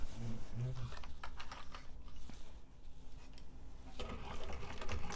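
A home sewing machine runs in steady bursts, stitching an eighth-inch seam along a fabric barrel bag with a zipper foot, close and moderately loud over a faint room hum.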